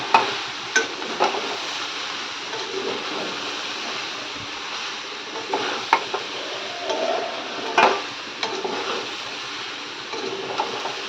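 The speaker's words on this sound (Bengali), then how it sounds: "আবার আবার একটু ভালো করে কষিয়ে নেবো মশলাটা" Spice masala sautéing in a pan, a continuous loud sizzle with occasional sharp clicks and scrapes of a spatula stirring it close by.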